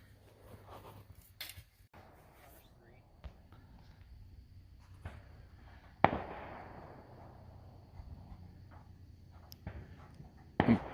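Fireworks going off at night near a cabin, a few sharp distant pops and bangs spread out with quiet gaps between them, faint under low murmured talk.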